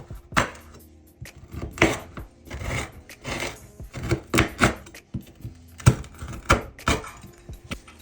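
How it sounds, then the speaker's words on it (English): A knife roughly chopping unwrapped Butterfinger chocolate bars into half-inch pieces on a board, a steady run of crisp, close chops and cuts with no talking. "Roughly chop them up into about 1/2-inch pieces."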